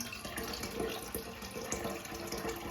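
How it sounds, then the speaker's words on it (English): Tap water runs steadily in a continuous hiss and splash while leftover water is collected at a sink, fairly close and unbroken, with no talking. "I'm just collecting the leftover water."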